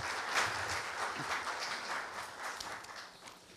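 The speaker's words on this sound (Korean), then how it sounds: "큰 박수로 맞아주시기 바랍니다." An audience at a university campus-town startup fair breaks into steady, sustained applause welcoming a district mayor to the podium, dense clapping filling the room for several seconds.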